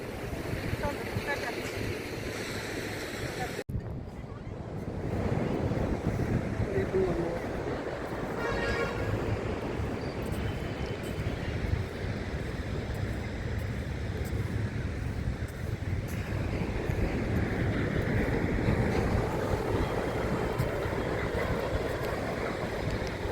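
Sea waves at Digha beach wash in with a continuous rushing surf under heavy wind noise on the microphone, loud and broad throughout, with brief voices now and then.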